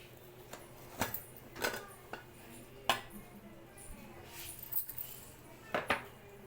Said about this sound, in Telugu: ఇక్కడైతే మూత తీసి చూద్దాం